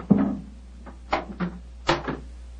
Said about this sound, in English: Why in thunder doesn't the keeper open the door?